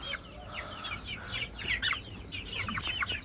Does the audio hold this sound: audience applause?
no